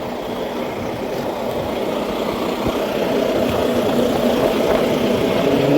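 A truck nicknamed Bumble Bee idles steadily, a smooth low engine purr holding even and close throughout, growing slightly louder toward the end, with no voices.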